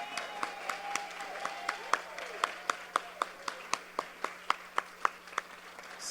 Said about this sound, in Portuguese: uma salva de palmas para os nossos monitores